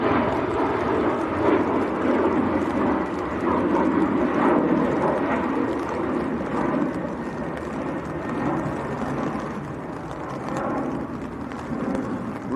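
A TAP Air Portugal Embraer 190 jet bound for Lisbon, heard at Manchester Airport as a steady, broad engine roar that holds loud and even throughout with no break.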